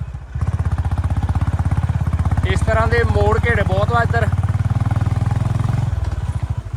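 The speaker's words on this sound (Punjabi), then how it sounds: "ਪੂਰਾ ਜੋਰ ਲੱਗਦਾ ਪਿਆ ਮੋਟਰਸਾਈਕਲ ਦਾ" Motorcycle engine straining up a steep mountain road near a village in Kullu district, Himachal, with a loud, steady pulsing drone running throughout and someone talking over it midway.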